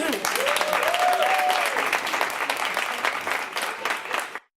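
A panel symposium audience at a fashion workshop breaks into loud, sustained applause for the panelists, dense clapping with scattered voices that holds steady for several seconds before cutting off abruptly.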